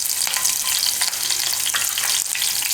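Chillies hit hot oil in a pan and sizzle loudly, a dense, steady crackle with small bursts and spits, close and without any talking.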